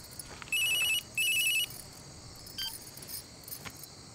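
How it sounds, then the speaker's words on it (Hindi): A telephone rings in two short electronic trilling bursts, each about half a second long, over a faint steady background hiss with a few small clicks afterward. "देखो तो फोन है किसका।"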